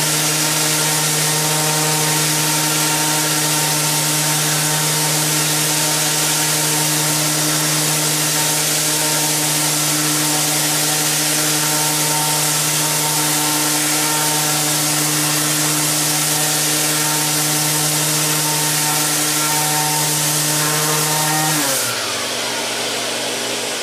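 Festool ETS 150 random orbital sander running on a piece of rough-cut cherry, a loud, steady droning hum with buzzing overtones that holds unbroken for about twenty seconds before the motor winds down.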